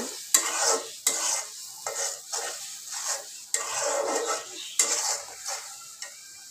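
A spice mix with turmeric being sautéed in a pan, with repeated scraping stir strokes roughly every second over a gentle sizzle, close and clear with no voices.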